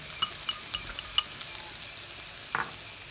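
Minced garlic, shallot and lemongrass frying in oil for a tamarind sauce, a steady close sizzle with scattered crackles and spatula stirring scrapes throughout.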